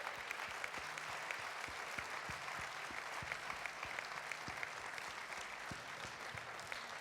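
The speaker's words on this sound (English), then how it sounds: "A good, strong applause." Steady, dense applause from an audience fills the room for several seconds, with many hands clapping together at an even level and a few sharper nearby claps standing out.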